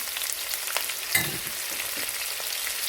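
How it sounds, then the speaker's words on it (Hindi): Sliced onions and cumin seeds frying in hot oil while bhindi fry is prepared, giving a steady close sizzle with a brief clatter of stirring partway through. "ये स्लाइस्ड अनियन हम ऐड कर लेंगे और साथ ही जीरा ऐड कर लेंगे"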